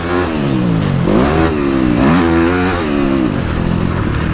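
A dirt bike engine on a motocross track revs loudly and close, its pitch climbing and dropping as the rider shifts between second and third gear, with a steady roaring drone throughout.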